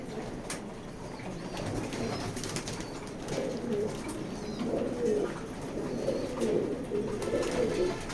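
Racing pigeons coo in a loft at night, soft repeated throaty calls overlapping with occasional wing flutters, close and moderately loud over a low background hum.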